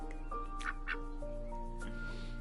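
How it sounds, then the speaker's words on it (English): Several duck-like quacks of varying pitch and character sound in short bursts over a steady tonal background, fairly close and moderately loud. "Different kinds of duck quacks."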